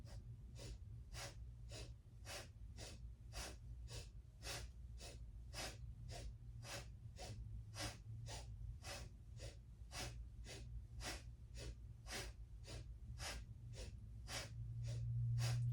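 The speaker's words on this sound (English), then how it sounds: "Inhale to the left, exhale to the right." Rapid, rhythmic breaths during yoga breath work pulse in short, evenly spaced puffs, over twenty in a row, steady and fairly faint over a low background hum.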